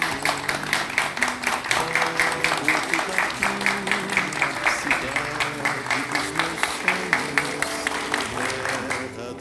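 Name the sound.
audience applause for Pedretti Neto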